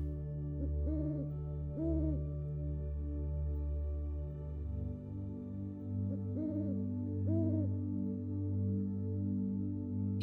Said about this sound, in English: all you hear is the greeting of an owl in the distance